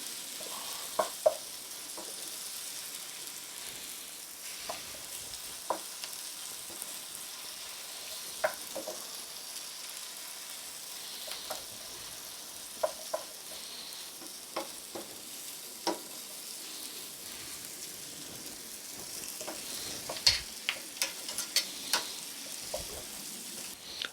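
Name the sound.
stuffed mushroom filling frying and being stirred in a pan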